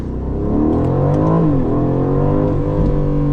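An Aston Martin Vantage with a ZF 8-speed automatic pulls away hard in track mode, its engine note climbing and shifting in a loud, steady rising drone heard from inside the cabin, with no talking.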